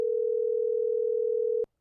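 A telephone line tone plays while calling someone: one steady, unbroken electronic beep lasting under two seconds before it cuts off cleanly.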